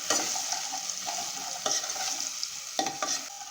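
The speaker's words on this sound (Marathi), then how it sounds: "छान अशी लसणाची पेस्ट आपल्याला परतून घ्यायची आहे" Garlic paste sautés in a pan with chana dal, sizzling and frying steadily while a spoon stirs it with periodic scraping strokes close by.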